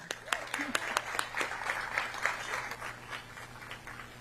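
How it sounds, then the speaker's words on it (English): Scattered applause from a small crowd, quiet and somewhat distant, with individual claps standing out and some voices murmuring underneath. "Please help me welcome with a big round of applause our Commissioner Maribel Gomez Cordero."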